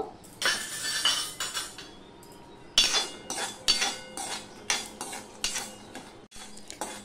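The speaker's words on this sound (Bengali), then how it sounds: "বাদামগুলো ফটফট করে ফাটছে" Raw peanuts fry in a hot wok, giving faint, irregular crackles and sharp little pops mixed with light clinks and scrapes of stirring, with nobody speaking.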